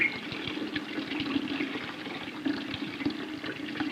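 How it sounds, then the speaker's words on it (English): A young rhino drinks water after its milk, giving steady wet lapping and sloshing with small splashy pulses close by, with no talk. "He's thirsty today, so after his milk, he gets a drink of water."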